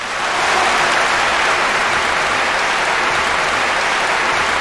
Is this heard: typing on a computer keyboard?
no